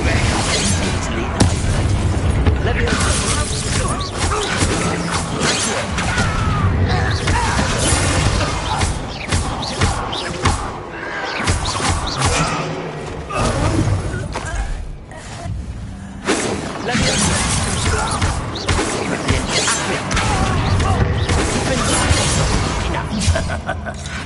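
Blasting-spell explosions in the Hogwarts Legacy video game, booms, shattering and whooshes packed densely throughout with game music and a character's voice running under and over the combat.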